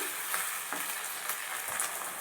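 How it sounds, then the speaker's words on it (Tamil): Green chillies, curry leaves and chopped coriander sautéing in a pan while a village-style seela fish curry is prepared, giving a steady close sizzle with light crackles and occasional stirring scrapes, no talking. "பச்சை மிளகாய் கொத்தமல்லியை பொடியாக நறுக்கி போட்டுக்கோங்க நல்லா வதங்கட்டும்"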